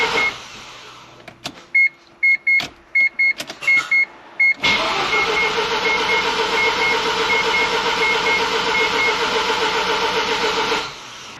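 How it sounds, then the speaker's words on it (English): Starter on a Mazda FD RX-7 rotary engine clicks and cranks in short bursts that fail to catch, followed by a long steady mechanical whir that stops abruptly, with an electronic chime pulsing in the background. "So what we're going to do right now is give the car a crank."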